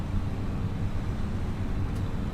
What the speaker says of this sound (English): So we're currently in our newest tractor. It's the New Holland T7300.